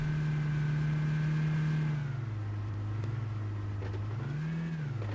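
Car engine in a battle royale video game, a steady mid-pitched drone that drops in pitch near two seconds, then briefly rises and falls again near the end, loud and continuous with no talk.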